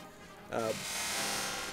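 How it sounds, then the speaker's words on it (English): A harsh, buzzing electronic video game tone, sped up and distorted by a faster processor, with a brief warbling burst before a steady grating drone. "on my faster processor, it somehow has sped up the audio."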